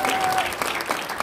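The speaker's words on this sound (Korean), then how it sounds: "우리 조나단 목사님 한번 박수 보낼 시간입니다" A church congregation applauds for Pastor Jonathan, a short burst of dense clapping with a few voices mixed into the crowd noise.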